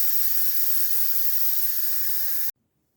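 A pressure cooker vents steam in a quick release, a loud, steady, broadband hiss held for about two and a half seconds, then cut off abruptly into near silence.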